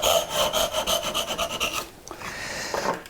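A hand saw cuts dovetails in wood with a rapid run of close, rasping back-and-forth strokes, then stops and leaves quieter scraping and a soft thud.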